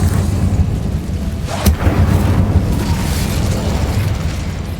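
The Incendio fire spell is cast in the video game Hogwarts Legacy, a burst of flame that booms and crackles with a sharp onset, rolling on under a loud rumbling game soundscape.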